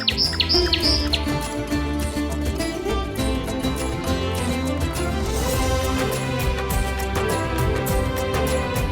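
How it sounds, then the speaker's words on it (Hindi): Forest birds chirp and tweet in a steady chorus of bright, repeated calls over a continuous musical background, with no voices. "जंगल के पक्षी, कहाँ हो सब?"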